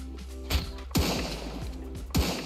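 A triple-barrel flintlock pistol in the game Sunkenland fires three shots, each a sharp boom with a falling thud, spaced roughly half a second to a second apart against quiet game ambience.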